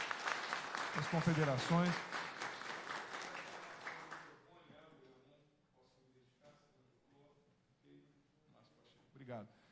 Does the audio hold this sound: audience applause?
yes